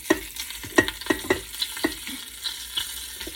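Chicken pieces sautéing on the sear setting in a Ninja Foodi pot, with soft sizzling under a series of sharp scrapes and taps as the pieces are pushed and stirred around the pot.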